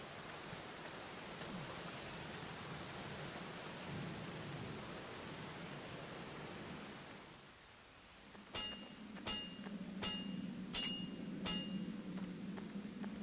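Heavy rain pours steadily in The Black Mirror, with a low thunder rumble under it; after a brief lull the downpour returns alongside several sharp, evenly spaced clinks.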